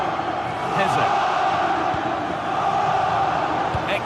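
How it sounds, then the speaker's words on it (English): Football video game stadium crowd roaring steadily for the home side chasing an equaliser, a broad continuous din with swells and shouts throughout, under commentary. "the crowd is certainly trying to motivate the team to push them forward to get the equaliser"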